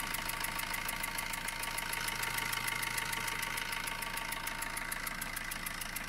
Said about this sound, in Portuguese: Agora este problema do motor a mim preocupa bastante.